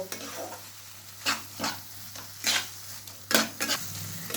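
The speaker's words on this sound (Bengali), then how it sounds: "আবার আমি ভালোভাবে নাড়াচাড়া করে নেব।" Matar paneer masala with sugar stirred in a frying pan, a steady sizzle under about six separate scraping strokes of a spoon against the pan, close and clear with no talking.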